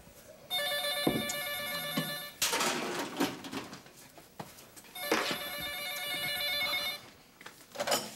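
A landline telephone rings indoors in two long bursts of bright trilling bell, separated by a quieter pause filled with faint shuffling and household movement, with no voices.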